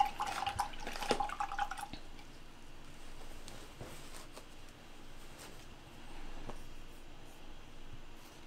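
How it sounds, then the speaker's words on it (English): A paintbrush is rinsed in water, with a brief flurry of close splashing and dripping at the start, then faint scattered drips and taps over a low background. "I'll wash my brush real quick."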